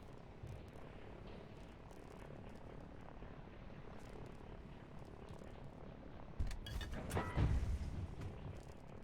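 A helicopter in a real-time strategy game makes a faint, steady rotor purr with a muffled chop, swelling briefly louder near the end.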